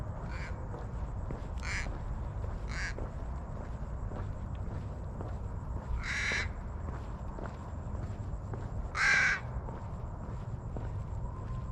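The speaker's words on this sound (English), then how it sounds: "Crows are out in forest." Crows caw in open bush around Alice Springs, Australia: about four harsh, separate calls spaced several seconds apart, moderately distant, over a steady low outdoor rumble with no talk.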